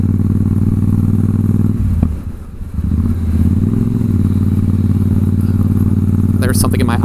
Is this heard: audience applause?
no